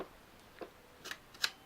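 An Argus C3 camera has its shutter cocked, giving a few faint, quiet mechanical clicks spaced apart in a silent room.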